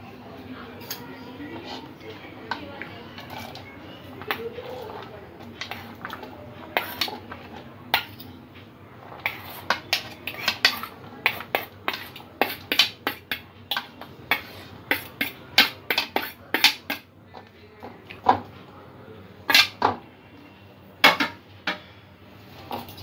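Chopped capsicum, green chillies, ginger and garlic get mixed into beaten eggs for an oats omelette, quiet at first, then a growing run of quick utensil clinks and taps against a bowl.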